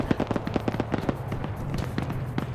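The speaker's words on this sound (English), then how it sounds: "Good opening with the grenades." Grenade blasts in a PvP video game match, a rapid burst of sharp popping detonations and crackles in close succession, loud and near, filling the short stretch without pause.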